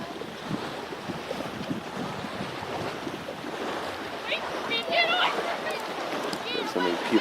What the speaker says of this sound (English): The speedboat just went by, so it threw up a lot of waves.